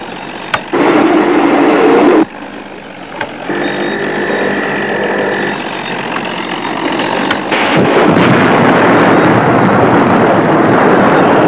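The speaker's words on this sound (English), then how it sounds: "Activate the Hornet mortar." Mortar fired from the Green Hornet's armored car in an old radio drama, a loud booming blast effect over engine roar, with sharp bursts, a brief lull and then a sustained rumbling explosion filling the last seconds.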